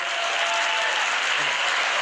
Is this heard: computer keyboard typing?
no